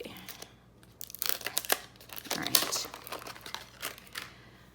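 Makeup brush packaging sealed with tape is tugged and torn open, giving close crinkling and ripping bursts of plastic and paper in uneven spurts.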